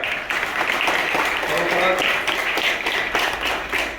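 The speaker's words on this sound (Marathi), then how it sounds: "जोरदार आपण त्यांच्यासाठी टाळ्या वाजवूया" An audience at a village school event claps steadily for the headmistress. The applause is dense and sustained at moderate loudness, with no gaps.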